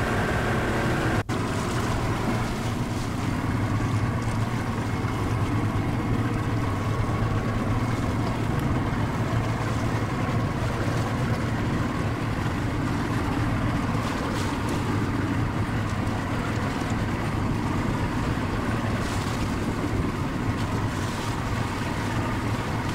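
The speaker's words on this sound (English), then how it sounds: "leaving the launch with his boat to begin breaking the ice" A steady motorboat engine drones on without a break while breaking ice, with a low rumble and broadband rushing noise, and a single sharp knock early on.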